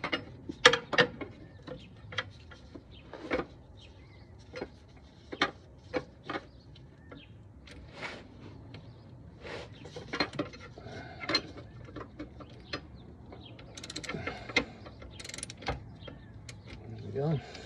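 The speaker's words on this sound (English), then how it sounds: "And get the wrench up here" A wrench works on a Corvette C4 during a transmission install, giving repeated close metallic clicks, taps and ratcheting clinks in an irregular rhythm over a low background hum.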